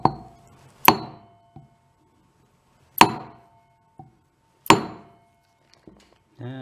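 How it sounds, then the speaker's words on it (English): A hammer whacks a wheel bearing into the front wheel of a Piaggio MP3 scooter: three sharp, loud metallic strikes spaced a couple of seconds apart, with a few lighter taps and clinks between them, close up and with no speech. "Try giving that a whack. See if that'll drop right down in there."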